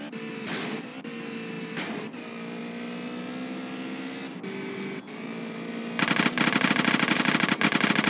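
Gunfire in GTA San Andreas Definitive Edition, with a few isolated shots over a humming engine-like drone, then a loud, rapid machine-gun burst that runs continuously to the end.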